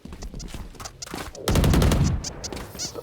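Burst of rapid automatic gunfire from a Valorant match, loud and dense for about half a second in the middle, with quieter game shots and effects before and after.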